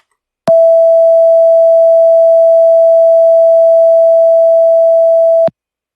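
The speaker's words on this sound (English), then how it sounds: "660 Hz pure tone." A higher 660 Hz pure sine tone holds loud and steady for five seconds, switching on and off sharply with nothing else heard.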